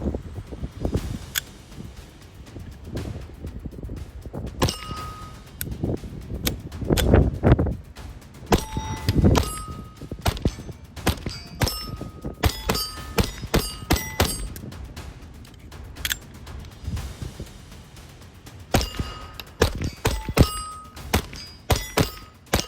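Hammerli Forge rifle firing Norma Tack rimfire ammunition, a series of light, irregularly spaced shots with metallic pings and thuds from nearby handling, no talking.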